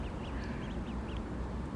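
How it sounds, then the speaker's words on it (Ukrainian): Several small ducklings quack in brief, high chirpy bursts, spaced irregularly over a steady murmur of background noise. "Дивіться, які каченята. Смішні."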